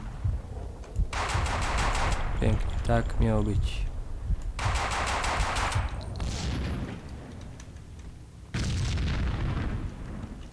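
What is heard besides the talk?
explosion and gunfire in the video game Max Payne 2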